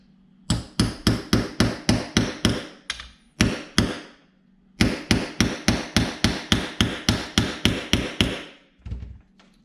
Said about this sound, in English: I'm just going to lightly take a hammer.